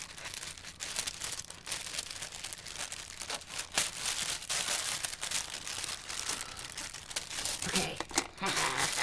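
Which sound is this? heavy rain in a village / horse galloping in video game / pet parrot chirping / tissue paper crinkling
tissue paper crinkling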